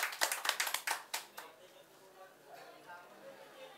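A small audience claps for a musician guest at a casual Indonesian comedy-music show, a burst of distinct close hand claps that fades after about a second and a half into quiet talk.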